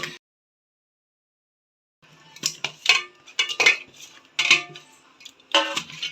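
A metal spoon scrapes and clinks in a bowl as pieces of rock fish are tossed with fry masala powder. Irregular close clattering starts after a brief silence and continues in bursts.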